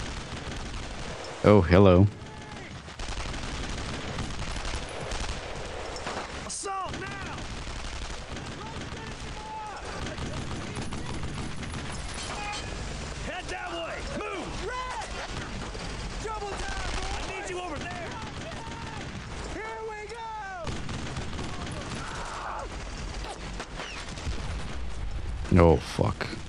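Sustained gunfire fills a World War II battle in the video game Brothers in Arms: Road to Hill 30, with rapid rifle and machine-gun bursts throughout, louder booms near the start and end, and voices talking over the shooting.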